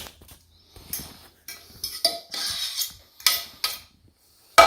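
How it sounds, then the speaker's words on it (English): Vegetables tipped into a pan for ravioli alla Genovese, then stirred, with scattered clinks, scrapes and rustling bursts of metal against the pan, close and intermittent with quiet gaps between. "now I'm going to add the vegetables"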